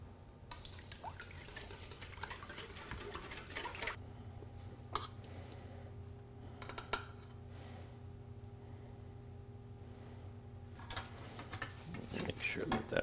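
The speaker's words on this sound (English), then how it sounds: "we're going to mix that all together" Batter of corn oil and eggs for Perry County corn cakes is mixed in a bowl, with soft wet stirring, faint clinks of utensil against dish and a low background hum, quiet and close.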